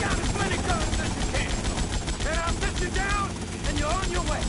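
A sustained, dense barrage of weapon fire from an overpowered gun in the game GTA Vice City, loud and continuous for several seconds without a break.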